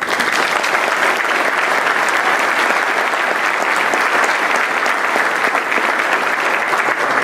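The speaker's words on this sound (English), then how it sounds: "So I'd like everybody to give a round of applause." A graduation ceremony crowd breaks into loud, sustained applause, a dense and even roar of many hands clapping that fills the whole stretch without letting up.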